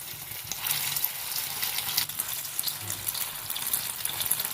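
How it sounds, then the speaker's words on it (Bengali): Egg-dipped masoor dal cutlets dropped into hot oil fry with a steady, loud hiss and crackle that fills the whole stretch, with a faint voice underneath. "এবার আমি তেলে দিয়ে দেব। তেলটা গরম হয়ে গেছে।"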